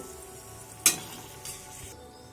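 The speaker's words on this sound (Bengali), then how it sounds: "শুকনো লঙ্কাটাকে হালকা করে নাড়িয়ে নেব।" Dried red chillies fry in hot oil in a kadai with a low, even sizzle. A single sharp clatter of the stirring spoon lands near the start, followed by a softer scrape, and no one talks.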